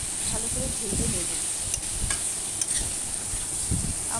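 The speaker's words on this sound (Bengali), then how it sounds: "হলুদ দিয়ে ভালো করে নাড়াচাড়া করে আঁচিয়ে নেব, যাতে ভাজা হয় ভালো করে ভেজে নেব" Turmeric being stirred and fried in a pan for a prawn and ash gourd curry, a steady hiss of sizzling oil broken by scraping spatula strokes and muffled knocks.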